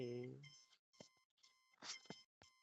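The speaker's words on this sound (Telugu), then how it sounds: "అలారం అవుతుంది" A phone-style alarm clock rings with a repeated electronic melody in short bursts separated by brief gaps, quiet and clear in an indoor room.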